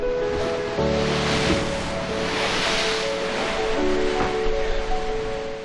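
Rough ocean surf surges and crashes continuously against rocks, with a constant roar of water and wind, no voices.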